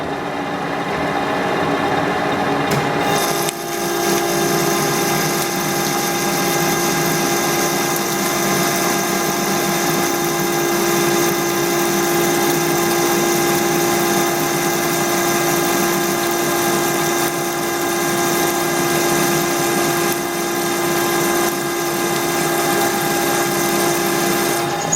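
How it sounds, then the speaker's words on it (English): A metal lathe with a four-jaw chuck runs steadily while a big hole is drilled through a metal workpiece, a constant humming, grinding drone that holds loud and even throughout. "then we got to drill a big hole through there"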